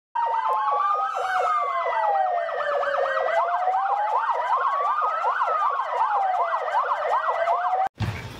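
An ambulance siren wails loudly and close, its rising and falling tone cycling continuously for several seconds before cutting off abruptly near the end.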